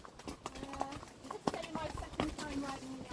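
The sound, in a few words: horse walking, hooves clip-clopping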